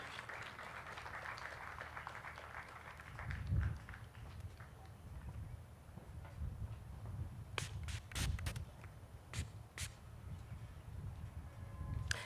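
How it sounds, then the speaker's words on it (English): Audience applause for the UN Women Country Representative at the FAWE Uganda Silver Jubilee launch: faint, distant, sustained clapping from a seated hall, with a few heavier thumps and sharp claps toward the end. "Round of applause for Miss Adekemi Ndieli, the UN Women Country Representative."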